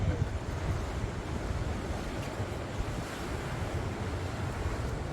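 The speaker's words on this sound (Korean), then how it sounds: "저기 가까이 있으면 저 파도 소리 엄청 나" Ocean waves wash steadily onto the shore on Jeju with a constant broadband roar and some wind buffeting the microphone, with no voices.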